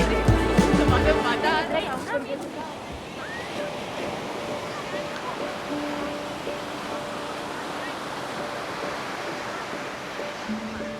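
Ocean surf washes onto Praia do Camilo beach near Lagos on Portugal's Algarve coast, a steady rushing hiss with wind, louder at the start and overlaid by faint sustained tones.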